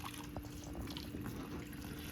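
Water from a tap runs steadily onto a bag of bedding in a red wiggler worm bin, a soft continuous trickle and splash held close without a break.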